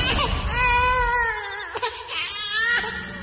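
An infant cries close by in rising, wavering wails that break into short sobbing catches, then resumes crying.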